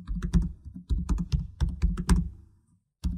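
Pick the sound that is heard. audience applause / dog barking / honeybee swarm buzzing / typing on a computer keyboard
typing on a computer keyboard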